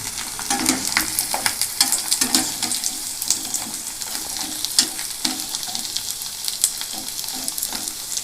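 Onion rice-flour vadam fries in hot oil with a busy, bubbling crackle and a steady nearby sizzle, rippling with small pops throughout.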